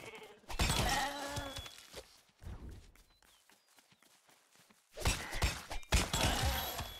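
Sheep in the video game Lego Fortnite bleating loudly up close, one long wavering bleat, then a quiet stretch with soft thuds before another loud bleating call.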